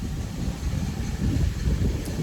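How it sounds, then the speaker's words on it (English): Wind blowing outdoors on a blustery day, a steady low rumbling roar with gusty buffeting that swells slightly midway and stays fairly loud throughout, no talking. "It's getting to be kind of windy too"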